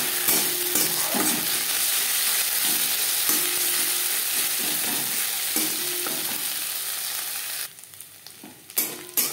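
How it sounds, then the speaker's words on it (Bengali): Chopped onions fry with ginger paste and green chili paste in a hot pan while being stirred, a steady loud sizzle with scraping stir strokes that thins out near the end, no talk. "মশলার সাথে পেঁয়াজ ভেজে নেওয়ার পর"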